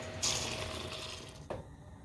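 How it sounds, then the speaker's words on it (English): Seven cups of hot water poured for soaking black-eyed peas, a rushing fill that surges in and continues steadily, with a brief splashy burst near the end. "And so this is 7 cups of hot water."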